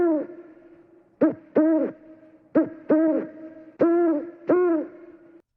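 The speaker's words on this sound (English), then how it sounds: "2 large owls set up a most horrible low moaning among the trees to the right." Two large owls hoot among trees at night, giving six low, moaning calls in close pairs, clear and near against a silent background.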